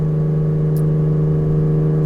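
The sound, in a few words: Ferrari 365 GTC/4 engine revving loudly while driving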